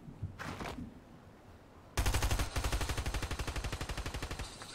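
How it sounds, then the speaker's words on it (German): Fortnite Chapter 3 gunfire at an enemy begins with a few sharp shots, then a rapid automatic burst hammers out in an evenly spaced stream of loud, close reports. "Schießt auf ihn, ich sehe."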